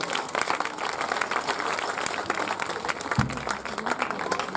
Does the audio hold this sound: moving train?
no